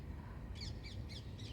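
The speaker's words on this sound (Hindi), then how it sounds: "चिड़ियों की आवाज़" Birds call in the early morning after rain: four short, faint cawing calls in quick succession over a low background rumble, with no talking.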